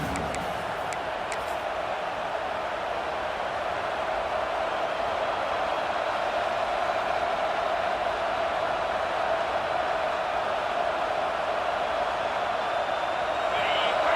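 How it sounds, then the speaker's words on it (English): Steady stadium crowd roar at an Ole Miss vs Auburn college football video game, holding an even, sustained wash of noise from start to finish with a faint constant tone underneath. "The roar of the crowd trying to fuel this defense to keep them pinned in their own end"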